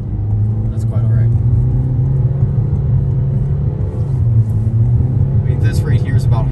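A 2022 Toyota Corolla Cross at half throttle, a steady low engine drone and road rumble heard from inside the cabin throughout, with a person talking over it.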